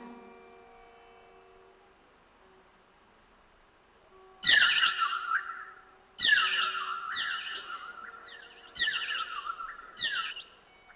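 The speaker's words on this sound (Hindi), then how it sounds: "चिड़ियों के चहचहाट सुन करके जाग गए।" Several loud bursts of bird chirping at dawn, close by, arriving in four separate clusters of bright, rapid tweets over a faint steady background hum, with no voices.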